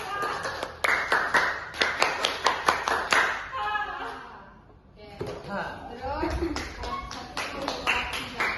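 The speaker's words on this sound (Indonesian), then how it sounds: "Tepuk tangan." A crowd claps in quick rhythmic bursts, pausing briefly midway before the clapping resumes, with voices mixed in.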